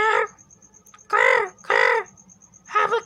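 A crow caws four times in quick succession, loud and close, each harsh call standing alone against a quiet background.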